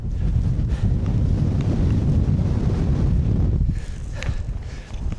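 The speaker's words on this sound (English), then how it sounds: "Wind is certainly picking up." Strong wind gusts across an exposed snowy hillside, roaring steadily into the microphone and easing slightly near the end, with no voices.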